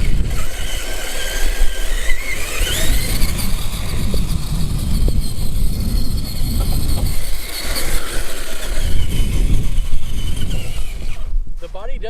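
An RGT Trample 18100 RC rock crawler runs around a yard, its small electric motor whining and tires crunching loudly and continuously over rough ground, with speech mixed in.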